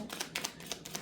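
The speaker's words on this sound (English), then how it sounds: "One more shuffle." Tarot cards shuffled by hand in a few quick riffling bursts, crisp papery flutters repeating about four times within a second, close and fairly quiet with no voice over them.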